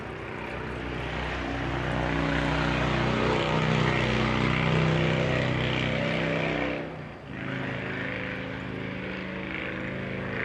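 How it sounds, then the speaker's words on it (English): A Harley motorcycle drones past nearby, building and holding, then briefly dipping before the rumble continues steadily. "Guy on a Harley going by."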